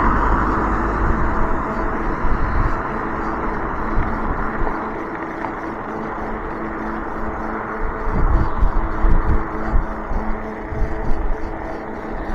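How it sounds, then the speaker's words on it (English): A car approaching and passing on a road, heard from an e-bike, a broad rumbling whoosh that swells toward the end over steady wind noise, with no talking. "I hear a car coming"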